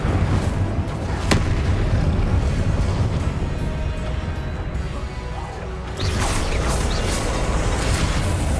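Incendio, the fire spell in the video game Hogwarts Legacy, is cast. It makes a continuous roaring, crackling blast with rumbling bursts that swell again near the end.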